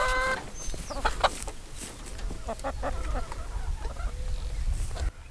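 Chickens cluck in short, irregular bursts close by, with an occasional sharper squawk, over a steady low rumble that runs through the whole stretch.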